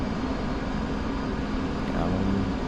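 An F-15E jet in the DCS World flight game flying downwind parallel to the runway, a dense, steady engine roar filling the whole clip without letup, with radio chatter underneath.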